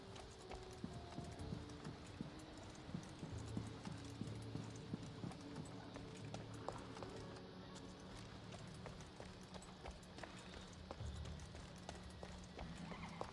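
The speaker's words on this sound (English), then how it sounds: "You can hear the horse." Horse hooves clip-clop steadily in Assassin's Creed Odyssey, mixed with occasional neighs and whinnies. The sound stays fairly quiet and continuous throughout, with no speech over it.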